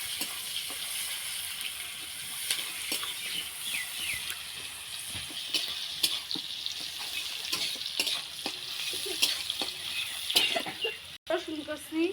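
Chopped onion sizzles and fries in plenty of hot oil in a pan while being stirred for a fish curry with greens, a steady crackling hiss with scattered scraping clicks throughout.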